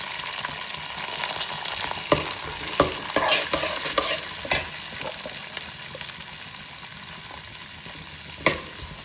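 Shallots and curry leaves frying with spices for a country-chicken curry, a steady close sizzle broken by sharp scraping stirs of a spoon against the pan, with no voices.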